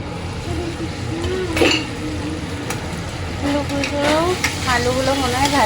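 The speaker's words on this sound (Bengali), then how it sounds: "আলুগুলো মনে হয় ভাজা হয়ে গেছে" Potatoes fry in a pan with a soft, continuous sizzle and occasional stirring scrapes, while voices talk nearby over the cooking.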